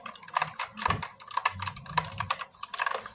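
Typing on an Antesports MK3400 PRO V3 mechanical RGB gaming keyboard, producing a quick, irregular run of crisp key clicks, close and clear, with no voices.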